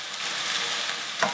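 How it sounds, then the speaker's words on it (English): A glug of white wine reduces in a hot pan with a steady, fairly close sizzle and a brief clatter near the end, with no voices. "Now we're going to add a glug of white wine."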